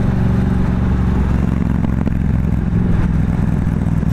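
Engine of a newly bought motorcycle drones loud and close on a ride, a steady rumbling hum with slight rises in revs and some rattle, with no talking.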